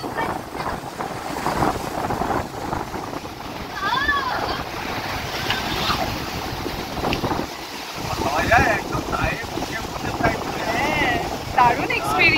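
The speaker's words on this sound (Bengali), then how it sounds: "এখানে পুরো জল মানে ছিটে ছিটে আসছে" Sea water splashing and surging at Tajpur beach, a steady wash of surf mixed with wind buffeting the microphone. Voices talk over it throughout the clip.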